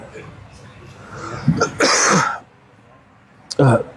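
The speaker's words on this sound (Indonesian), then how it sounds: "Mohon maaf, masih batuk." A man clears his throat and coughs a few times during an Indonesian religious talk, sharp close bursts between quieter room sound, with some speech around them.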